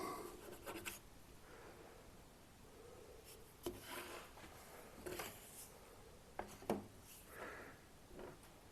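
A light scratching mark made on the back of a wooden guitar neck, faint and close, with a few short sharper scrapes and taps over quiet room hiss, no talking.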